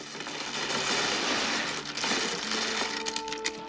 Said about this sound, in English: Well, that's the sound of Mahjong